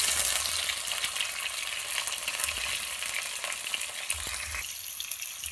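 Chopped tomato sizzles and fries in a pan for egg roll filling, a steady bright crackle with scattered stirring scrapes and low thumps, close and continuous, with no talk.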